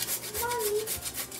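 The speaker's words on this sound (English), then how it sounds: "I'm gonna grate in some fresh nutmeg." Fresh whole nutmeg rubbed against a grater while making Trini nut cake, a steady rasping scrape lasting just over a second, close and fairly quiet with no talk.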